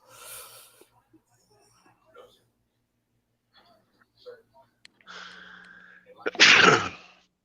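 A single loud, close sneeze bursts out near the end, following several seconds of near-quiet with faint scattered rustles and breaths.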